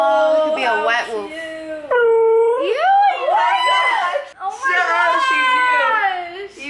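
A person imitates a wolf, howling in several long, loud, wavering calls close by that rise and fall in pitch, with brief breaks between them.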